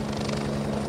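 Helicopter rotor and engine noise from a mountain gendarmerie rescue operation, heard over a mobile phone line, steady and continuous with a thin, band-limited telephone quality.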